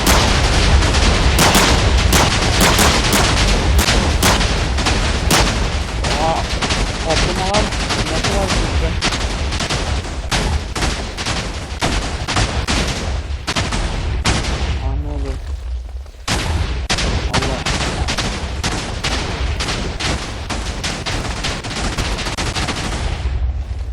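Rapid, continuous bursts of gunfire in Minecraft with heavy booming shots, almost unbroken for the whole stretch, sounding like an intense shooter game firefight.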